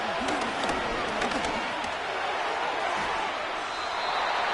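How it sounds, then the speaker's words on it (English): A stadium crowd at an American football game gives off a dense, steady roar that builds slightly. Faint claps and thuds are mixed into the broad wash of noise. "What about this crowd getting even louder before 3rd and 10?"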